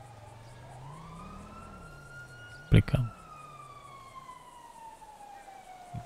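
A police car siren in the FiveM game wails steadily at moderate volume, cut by a brief loud thump near the middle, while someone speaks Romanian.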